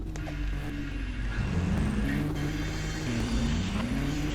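Steady engine drone of a car driving in a Roblox game, a continuous near hum with gently shifting pitch as it accelerates and eases off, no voices over it.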